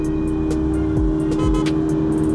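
Diesel Toyota Innova drag race cars with 2GD engines accelerating at a drag strip, a loud steady engine drone with two quick passing sweeps close by, no talk.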